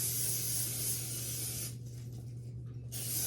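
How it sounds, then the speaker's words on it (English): A can of cooking spray hisses onto a baking pan for pumpkin bread in one steady close burst, then cuts out after a brief lull, with a low hum underneath. "This one really needs spray."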